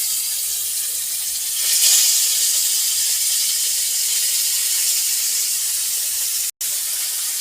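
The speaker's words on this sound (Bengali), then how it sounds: "এবার একে একে করে মাছগুলো ভালো করে ভেজে নেব।" Koi fish fry in oil in a wok with a steady, close hiss of sizzling that swells slightly early on and runs continuously, cut by one brief silent gap near the end.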